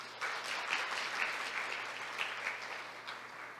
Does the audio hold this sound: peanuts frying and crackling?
no